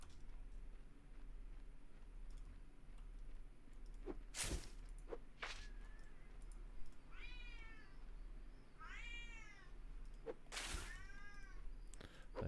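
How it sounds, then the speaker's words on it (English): An upset cat meows several times in the background, drawn-out rising and falling cries spaced apart, over steady room noise with a few sharp knocks. "That is a very upset cat in the background."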